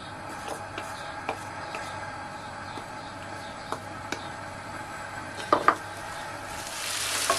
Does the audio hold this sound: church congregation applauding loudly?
no